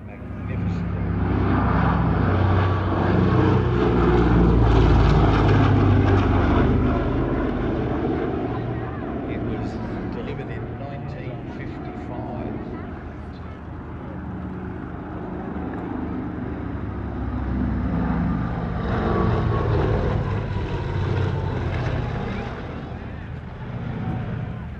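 A Lockheed Constellation propeller airliner, the only one flying worldwide, passes at a warbird airshow, its piston engines a loud sustained drone that swells, eases and builds again, with a voice talking over it throughout.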